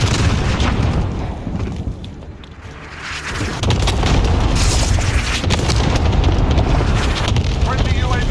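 An air strike lands in a video game as a string of deep, rumbling booms over a constant roar. The rumble briefly dips, then swells back to a heavy, sustained barrage with game voices faintly mixed in.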